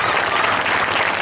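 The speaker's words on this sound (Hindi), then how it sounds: "ताली बजाओ एक बार जोर दो" A crowd at a wrestlers' welcome event in Haryana applauds former chief minister Bhupinder Singh Hooda with dense, steady clapping that stays loud and even throughout.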